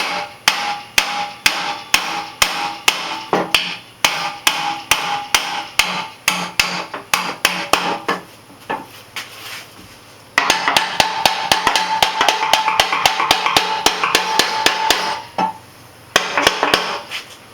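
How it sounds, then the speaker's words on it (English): Repeated sharp metallic hammer strikes on a Hustler Big Dog mower spindle shaft ring out in a steady rhythm, dozens of close blows with a brief pause midway. "just hit with a hammer and catch the blade"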